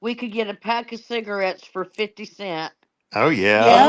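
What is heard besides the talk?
No everyday noises stand out.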